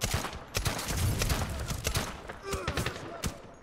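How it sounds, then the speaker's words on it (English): Gunfire rattles in a Medal of Honor (2010) combat mission: quick rifle bursts and scattered shots crack through a busy battlefield, with a voice speaking among the shots. "I'm shooting my own dude."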